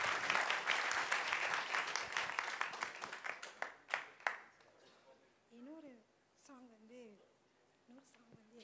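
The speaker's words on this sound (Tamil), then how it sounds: "அவருக்கு ஒரு கைத்தட்டு கொடுப்போம்." Audience applause at an India Independence Day celebration after a church group's song and dance, loud and thick at first, then thinning to scattered claps and fading out as a voice takes over.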